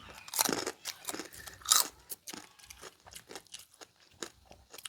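Someone chews crispy squid salad (yam muek krob) up close, with loud crunchy bites at the start and then softer, irregular chewing and crackling.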